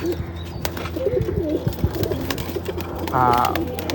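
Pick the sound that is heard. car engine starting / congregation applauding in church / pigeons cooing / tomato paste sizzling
pigeons cooing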